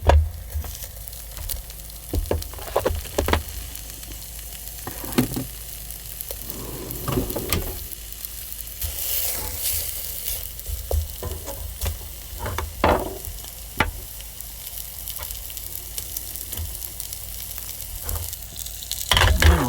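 A piece of steak sizzling in a pan over a flame, cooked for breakfast: steady, dense frying crackle throughout, with occasional louder pops and clinks of utensils, close and with no talking.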